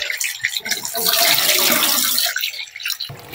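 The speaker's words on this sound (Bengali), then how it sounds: "তো আরেকবারও ধুয়ে নিচ্ছি।" Running tap water pours steadily over cut fish pieces being rinsed in a sink, a continuous splashing rush with brief pauses and changes as the pieces are moved.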